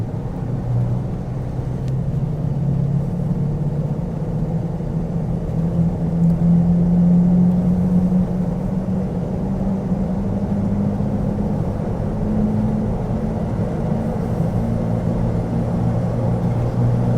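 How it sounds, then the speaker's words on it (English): A lifted Ford Excursion with a V10 crate engine and mud-terrain tires rolls along a slightly bumpy road, giving a steady low cabin rumble and tire drone with faint bumps and no break in the noise. "So this is a slightly bumpy road, and of course, these tires are mud terrains."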